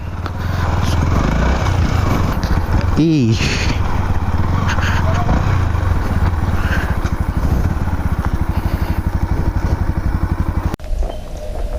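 A motorcycle engine runs loudly and close for the whole stretch, a steady throbbing drone, with a short spoken exclamation partway through.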